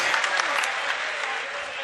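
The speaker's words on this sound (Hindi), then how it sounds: "एक बार जोरदार ताली बजाएं" Sustained applause from a mushaira audience at the Nauchandi Mela in Meerut, a dense, even wash of clapping that fills the whole moment at steady loudness with no voices above it.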